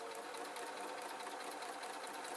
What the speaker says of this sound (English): I'm going to just sew on the rest of this pocket.